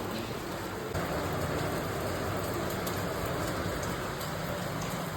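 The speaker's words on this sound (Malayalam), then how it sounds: "പുറത്ത് നല്ല മഴ കേട്ടാ." Heavy rain falling outside, a steady, even hiss heard from indoors for the whole stretch with no voices.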